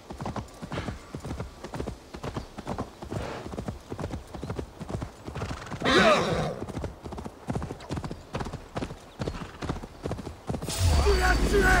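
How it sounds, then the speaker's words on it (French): Horse hooves gallop in a steady, rapid clip-clop rhythm through the whole stretch in Assassin's Creed Valhalla, mixed with game sounds and a brief louder burst, while someone talks in French over it. "maintenant ils ont mis une barre d'endurance sur les chevaux."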